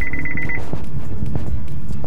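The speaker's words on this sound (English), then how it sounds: "The little beep comes on. It will mute the music if you have that on really loud, and it'll say forward collision alert" Forward collision alert chime inside a 2013 Buick Encore: a rapid train of about nine short, evenly spaced high beeps lasting half a second, then low cabin and road rumble with no talk.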